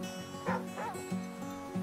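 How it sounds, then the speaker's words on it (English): Dog barking in the survival video game The Flame in the Flood, a few short, close yips and barks over a steady droning game soundtrack. "What are you barking at, asshole?"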